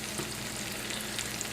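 Tomatoes frying in bacon fat in a pan make a dense, even crackling sizzle, close and constant throughout, with no voices.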